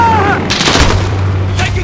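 Bursts of gunfire from a Call of Duty: Modern Warfare multiplayer Domination match crack out in a few loud, close shots and booms over a low background hum.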